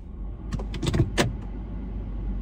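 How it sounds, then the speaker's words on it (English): A car moving along a street nearby, with a few short mechanical whirs and clunks over steady low road rumble, no voices. "I'm not sure what that car was just doing."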